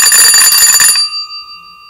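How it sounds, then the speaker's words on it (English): An electric doorbell with a push button by the door rings in a rapid, loud metallic trill for about a second, then the tone hums and fades away with no voices. "indicating that someone rang the bell"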